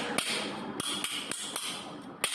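Several sharp hammer whacks drive a bearing cup into the head tube of a mini velo bicycle frame made from an exhaust pipe, irregularly spaced metallic strikes close up, with no talking.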